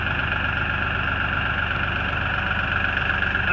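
A small, nearly new tractor engine idles steadily nearby, a constant low chugging hum with a faint higher whine, unchanging throughout.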